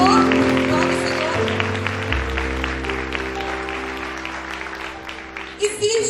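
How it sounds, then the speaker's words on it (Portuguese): Congregation clapping in praise during a Portuguese church service, steady rhythmic applause over sustained keyboard chords, fading somewhat before a brief louder rise at the end. "Aplaude o Senhor."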